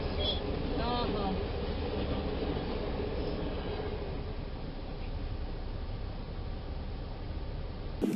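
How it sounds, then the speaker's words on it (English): Class 350 electric train pulling out of Heald Green station, a steady rumble of wheels and motors close by, with a faint high squeal early on and a sudden thump at the very end. "class 350/405, leaves Heald Green."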